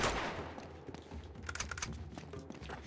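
Rapid bursts of gunfire in the video game Uncharted 2: Among Thieves, quiet and distant-sounding with clustered cracking shots and a rumbling low bed, heard without speech.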